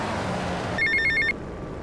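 A payphone ringing in the Grand Theft Auto: Vice City game, one short trilling electronic ring burst that breaks in over a steady background hum and then stops.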